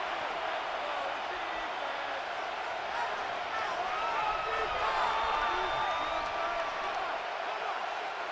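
A football stadium crowd at a Giants versus Raiders NFL game rises into a loud, sustained roar of cheering and whooping before a two-point try, a dense wall of noise that swells slightly midway and holds steady.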